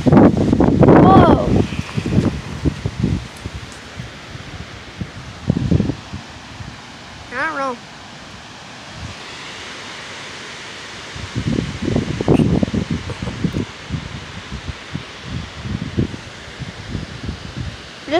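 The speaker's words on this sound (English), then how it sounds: "It's still really windy." Gusty storm wind rushes and buffets the microphone, with rustling and a few short bursts of voices between the louder gusts.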